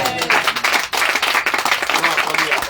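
A church congregation applauds in a dense, steady burst of clapping that fills the room from start to finish, with voices mixed into the noise.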